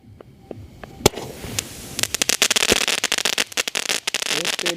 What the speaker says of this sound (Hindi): और ये चल रहा हमारा सोनी का स्वीट ड्रीम्स वाला 12 शॉट।